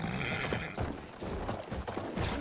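A horse in the Battlefield 1 World War I shooter game gallops with steady rhythmic hoofbeats, moderately loud and close, mixed with game noise and a brief whinny.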